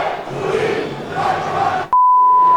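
Loud football crowd roaring and jeering in the stands of a Grêmio Prudente match as the referee ends the first half before a corner is taken, cut off abruptly by a sustained electronic beep.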